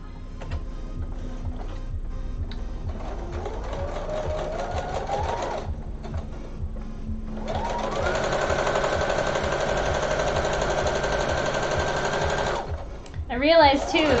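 Sewing machine stitching a bodice at regular stitch length, whirring in short bursts and then running steadily for several seconds, up close and loud, with brief pauses between runs.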